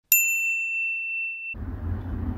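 A bright bell-icon ding sound effect strikes once, clear and ringing, sustaining briefly before cutting to low rumbling background noise.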